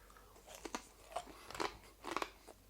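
Close, crisp crunches as pork crackling is broken and bitten, several sharp cracking bursts in an irregular rhythm against a quiet background, without talking.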